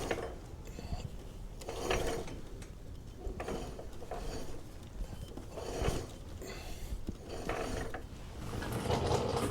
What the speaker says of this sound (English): Going to rotate the rear wheel a lot.